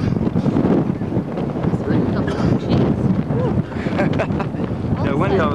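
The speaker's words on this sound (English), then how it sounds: "it windy all of a sudden, didn't it?" Steady wind roars across the microphone on a lake pier beside the Tahoe Queen boat at Lake Tahoe, with continuous gusty rumble and voices talking faintly underneath.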